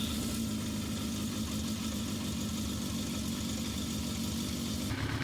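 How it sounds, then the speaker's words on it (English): A motorcycle engine runs steadily at idle to warm up during a coolant flush, a loud, close, continuous low rumble and mechanical hum with no change in pace, alone without voices. "So now we just run the bike up until it's just warm"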